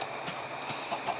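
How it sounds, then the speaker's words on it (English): A chicken in Minecraft clucks several times in short bursts over a steady background hiss. "the invincible chicken"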